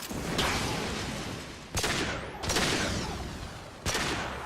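Gunfire from a firefight in the Mass Effect 2 video game, sustained volleys of rapid shots with sharp bursts recurring every second or so, loud and continuous.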